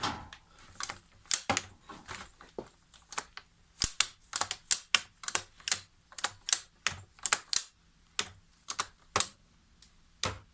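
Part of a Makita DUN500WZ hedge trimmer being repeatedly clicked into place, a series of sharp, close plastic clicks and snaps in an irregular rhythm, quiet between them, with no talk.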